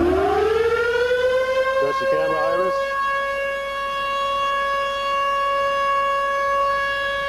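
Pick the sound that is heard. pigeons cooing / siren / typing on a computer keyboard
siren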